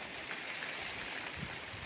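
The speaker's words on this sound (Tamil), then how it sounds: "நாங்கள் இப்போ மழை பெஞ்சிக்கிட்டு இருக்கு" Steady rain falls outdoors near a grove during a fishing trip, a dense, even hiss of drops with faint patters, continuous and fairly close, with no voices.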